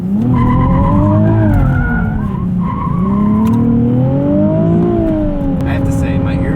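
A 2020 Nissan 370Z NISMO driven hard, its loud engine rising and falling through revs as the tires squeal and skid, a constant close roar filling the cabin with no break.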